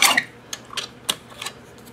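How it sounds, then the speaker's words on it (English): A few sharp, quick slicing snicks of a small paper trimmer cutting metallic specialty paper come one after another at uneven intervals in a quiet room, each crisp and close. "I'm just going to cut this in half. And I've got this teeny tiny trimmer"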